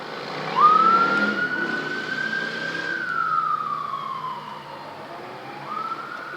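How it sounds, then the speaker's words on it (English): Wailing ambulance sirens, from more than one ambulance, rise and fall slowly, loud and steady, with traffic noise beneath. "There's more than one ambulance"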